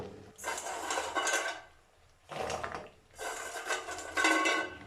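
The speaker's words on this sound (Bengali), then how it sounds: "চিনির শিরার সাথে গজাটা খুব ভালোভাবে মাখামাখি করে নেব" Fried goja sweets tossed in sticky sugar syrup, heard as three bursts of clattering and scraping in a metal pot, close and loud with brief pauses between.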